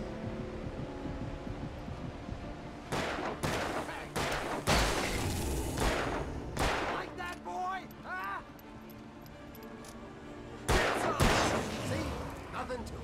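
Bursts of gunfire in the video game Alan Wake, sharp cracks in clusters and single shots, mixed with voices talking between them.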